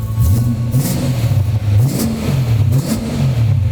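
A car engine fitted with an aftermarket exhaust line and intake revs repeatedly outdoors at a château, loud and close, each blip rising and falling in a steady series of throaty swells.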